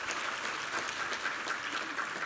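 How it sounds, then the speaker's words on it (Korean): A Sunday church congregation applauds in thanks to God, with a soft, even wash of many hands clapping at once, steady and somewhat distant for a couple of seconds. "우리 하나님께 감사와 영광의 박수 올려드리겠습니다"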